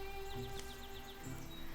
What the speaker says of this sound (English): they hear the chittering of birds